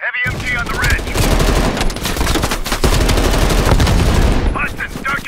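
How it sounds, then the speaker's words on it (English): Heavy machine gun fire in Call of Duty: Black Ops Cold War, a loud, continuous hammering burst of shots filling the clip, with brief voices at the start and end. "Heavy MG on the ridge."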